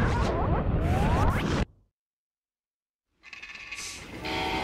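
A train running in the western game Call of Juarez Gunslinger, a loud rumbling rush with a whooshing edge that cuts out abruptly to silence, then returns and builds up again.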